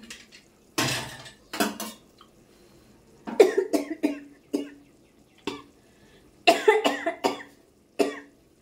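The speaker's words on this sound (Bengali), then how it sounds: "কাশি পেয়ে গেল" A woman coughs in a kitchen in several short bursts, close by, mixed with the clatter of pots, pans and cutlery being handled.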